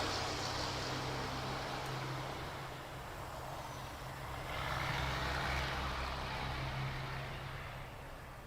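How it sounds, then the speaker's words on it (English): A truck passes outside at night, a broad steady rumble and road hiss that swells to a peak midway and slowly fades, heard from a distance with no talking. "Truck."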